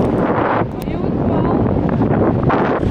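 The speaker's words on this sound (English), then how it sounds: "I, by the way, don't even know if you can understand what we're saying because the wind is windy." Heavy wind at a beach buffeting a microphone, a loud continuous roar and rumble that dips briefly before surging back.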